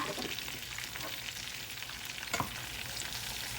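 Very ripe bananas frying in hot oil give a dense, even crackling sizzle that holds steady throughout, with one brief louder pop and rustle midway, close and quiet, with no voices.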